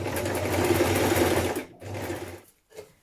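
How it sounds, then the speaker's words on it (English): A sewing machine stitches a four-step buttonhole in trouser fabric, a close, fast mechanical whirring that runs steadily, then stops and restarts in short bursts. "Now I'm using my 4-step buttonhole on this one because this is my favourite way to do it."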